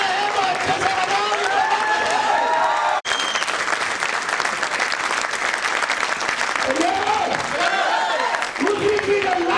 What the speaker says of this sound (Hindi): ताली बजाना है तो अच्छे से बजाओ।